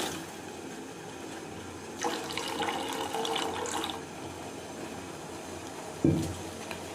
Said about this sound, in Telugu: ఇప్పుడు మన దగ్గర పాలు ఉంది కదా, ఈ పాలు తీసుకుని సరిపడా పాలు